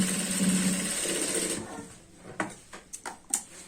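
Stitching a diagonal seam across a trouser waistband, a sewing machine runs with a rapid even whir for over a second, then falls silent before a few sharp clicks and taps of handling.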